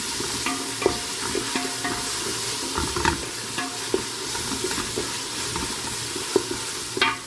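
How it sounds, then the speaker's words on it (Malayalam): Tomato paste frying in oil in a pan for a mutton masala: a steady, dense sizzle with occasional stirring scrapes and small clicks, close and continuous, with no talking. "കുറച്ച് ടൊമാറ്റോ പേസ്റ്റ് ആഡ് ചെയ്ത് കൊടുക്കുക. അതൊന്ന് എണ്ണയിലിട്ടിട്ട് ഒരു 2 മിനിറ്റ് ഒന്ന് ഫ്രൈ ആക്കുക."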